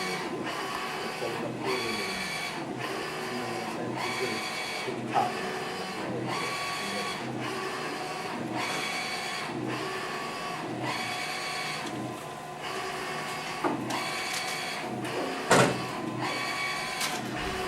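A printer running steadily, its carriage whirring back and forth in regular passes with mechanical clicks, a continuous close-up drone throughout.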